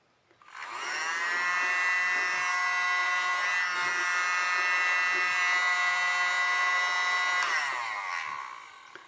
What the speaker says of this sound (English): I hope you can hear when I talk over this little blower.